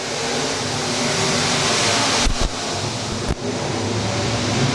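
USRA B-Mod race cars at Valley Speedway roar as racing resumes under green, a dense continuous engine wash with a couple of brief sharp dropouts.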